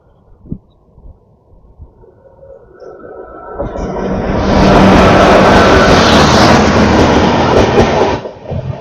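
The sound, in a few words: Ranchi–Howrah Jan Shatabdi Express train passing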